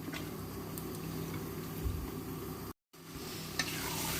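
Steady sizzling and frying of mutton with stirring scrapes in a pot, continuous and close, briefly cutting out near the middle.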